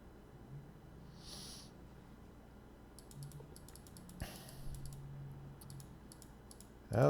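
Quiet clicking of keys on a computer keyboard at a programming desk. There are a few sparse taps, then a short cluster of faint keystrokes over a low room hum.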